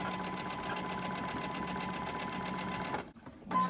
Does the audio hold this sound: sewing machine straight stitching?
yes